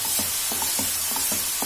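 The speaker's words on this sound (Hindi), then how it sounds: "अब इन सबको डाल करके अच्छी तरीके से हम एक बार फिर से चला लेंगे।" Tomatoes with coriander, cumin and garam masala powders for moong dal khichdi being stirred in a pot, a rhythmic scrape about every third of a second over a soft sizzle.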